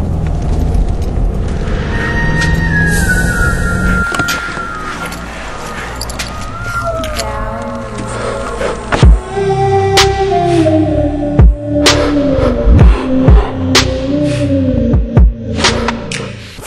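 A car creeps down a super bumpy back alley, its engine droning with rising and falling pitch, while thuds and jolts from the rough surface punctuate the ride toward the end.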